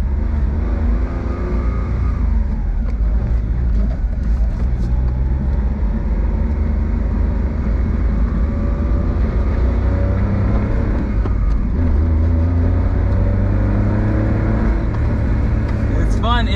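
A small Honda Beat or Suzuki Alto Works car drives with its engine droning and rising and falling in pitch through gear changes, steady and close inside the cabin, while someone talks over it.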